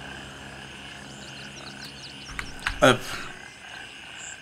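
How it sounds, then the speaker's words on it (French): Wild animal calls in the Gray Zone video game: faint chirps and croaks over a quiet ambient bed, then a louder close call near the end, with one brief word spoken. "comme vous pouvez l'entendre, en fait, il y a trop de d'animaux constamment"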